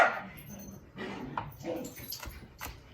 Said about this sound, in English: Don't mind the friendly dogs in the back.